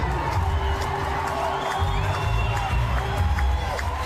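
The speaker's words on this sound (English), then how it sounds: "People are cheering for basic statements of biology." A large crowd cheers and whoops steadily at a political rally, a loud sustained roar with scattered shouts and whistles throughout, no clear speech over it.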